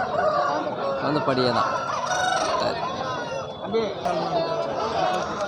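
Roosters crow and cluck amid a busy country rooster market in Kavundapadi, a dense, continuous din of many birds close by, with people talking over it throughout.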